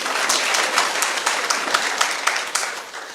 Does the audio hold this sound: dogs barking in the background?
no